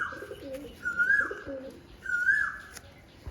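Pigeons coo in a Barasat loft of a tournament-winning flyer, with low rolling coos near 1.0 and 2.3 seconds plus some higher chirps, close and moderately loud over a faint background.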